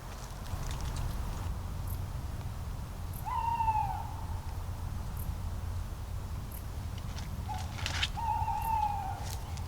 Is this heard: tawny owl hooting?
yes